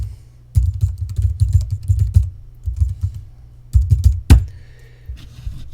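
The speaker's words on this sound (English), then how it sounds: "let's say you typed in www Regenerating America" Rapid keystrokes clatter on a computer keyboard as a web address is typed, bursts of close clicks separated by short pauses and ending in a single sharper key press.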